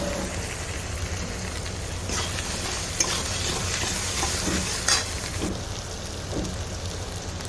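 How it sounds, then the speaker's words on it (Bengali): Potatoes, onion and green chili with salt and turmeric stir-fried in a pan for a Bengali shole fish dish, giving a steady close sizzle with occasional scrapes and clinks of a spoon. "আলুটা আর পেঁয়াজটার সাথে আর কাঁচা লঙ্কার সাথে ভালো করে কষিয়ে নিচ্ছি"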